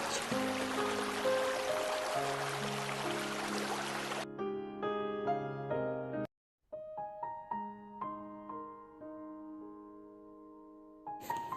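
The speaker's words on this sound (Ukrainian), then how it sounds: "зупиняюся та насолоджуюсь шумом гірської річки" A rushing mountain river near Kolochava, Ukraine, fills the first few seconds beneath soft melodic music. Then the water noise drops out and only the music continues.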